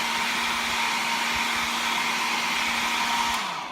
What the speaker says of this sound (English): Just a quick shot with the dryer